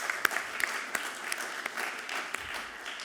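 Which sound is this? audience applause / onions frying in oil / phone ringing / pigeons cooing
audience applause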